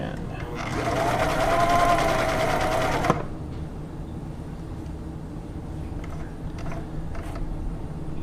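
Viking 6360 sewing machine stitching a plain blind hem on fabric, a whirring, rhythmic mechanical run of about two and a half seconds that stops abruptly, followed by quiet room noise and faint clicks.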